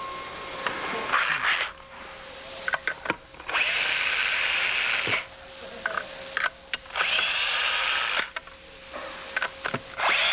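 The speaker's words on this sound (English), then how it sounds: "you got to take each one of these bolts out and just remove the surrounds" A power tool backs bolts out of a loudspeaker driver's surround, with repeated loud whirring bursts of a few seconds each, separated by short pauses and clicks of the tool being repositioned.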